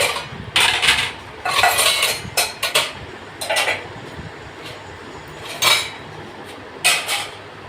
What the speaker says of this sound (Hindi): ये वो वाले बर्तन है मैं जो इनको अपने जगह पे लगा रही हूँ।